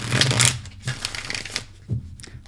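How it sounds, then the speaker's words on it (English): Tarot cards being shuffled during a reading, with a few bursts of riffling and slapping close by, loud then pausing, and no talk over them. "There's one more shuffle."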